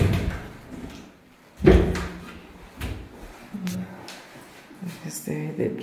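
Wooden drawers and wardrobe doors in a bedroom slide and bump shut with several knocks and thuds, one louder bang, under intermittent talking.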